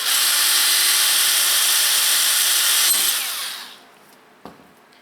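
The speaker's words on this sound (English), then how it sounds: "I'm simply going to drill in" A power drill whines steadily at high speed for about three seconds drilling into the wooden keel of a model skiff, then winds down and stops, followed by a single sharp knock.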